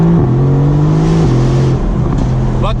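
A Mercedes-AMG GT C engine revs hard close up while downshifting, its pitch stepping between gears, with exhaust crackles popping near the end.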